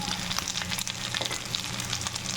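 Onion and potatoes frying in a pan, with steady crackling and sizzling, close and fairly loud, continuous throughout without pause.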